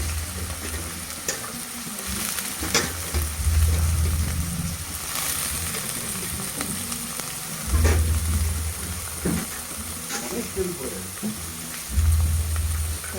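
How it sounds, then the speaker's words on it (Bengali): Carrots and potatoes fry in a pan with a steady, close crackling sizzle, broken by periodic low scraping stirs of a spatula. "সবজিটা ভাজা হয়ে এসছে"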